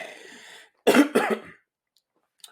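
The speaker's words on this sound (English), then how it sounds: "Sorry, I coughed in the mic." A single person coughs close into a microphone during a podcast conversation, two sharp harsh bursts in quick succession, loud and dry, followed by near silence.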